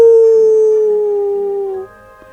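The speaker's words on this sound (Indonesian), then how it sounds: "Terdengar suara lolongan serigala." A single long wolf howl, a clear sustained tone sliding slowly downward for almost two seconds before fading out, close and alone.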